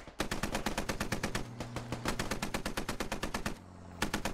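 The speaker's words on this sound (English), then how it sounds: "Not sure who shot that, but that was a definite miss." Sustained bursts of rapid automatic gunfire in the military shooter game SquadOps, loud and evenly spaced shots with a brief gap before firing resumes.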